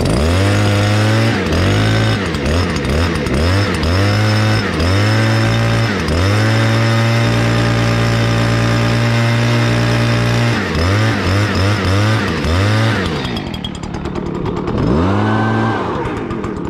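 Small two-stroke engines on Stihl, Echo and Ryobi string trimmers and leaf blowers run close and loud, revving up and down repeatedly in a rhythmic buzzing whine before settling and tapering off near the end.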